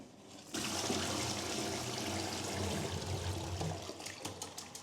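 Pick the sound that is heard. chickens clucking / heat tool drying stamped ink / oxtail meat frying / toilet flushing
toilet flushing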